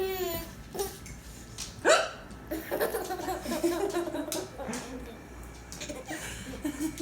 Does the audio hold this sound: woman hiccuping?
yes